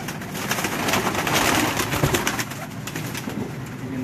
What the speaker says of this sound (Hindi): कभी सलारे टैडी कबूतर दिखाया करें जी